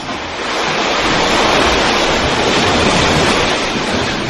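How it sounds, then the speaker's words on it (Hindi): Ocean waves surge steadily against a seashore, a dense, loud, unbroken roar of surf that swells slightly and holds for the whole stretch, with no voices. "पानी की उछलती मौजों की गहन आवाज़ आपके ही आनंद की अनुभूति का प्रतिध्वनि है"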